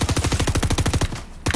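Rapid automatic gunfire from the video game Fortnite, a fast loud burst of evenly spaced shots that pauses briefly and then resumes.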